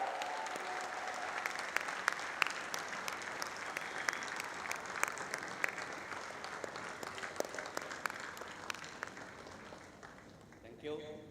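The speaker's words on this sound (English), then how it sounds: "Ladies and gentlemen, let's keep clapping for General Narwane," Sustained audience applause at the inauguration ceremony of Ahmedabad Design Week 3.0 at Karnavati University, a dense steady clapping wash with scattered louder claps and some cheering and voices mixed in, fading near the end.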